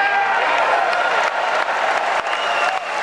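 A large crowd at the NRA convention in Dallas, Texas applauds President Trump with steady, loud, dense clapping that carries through without pause.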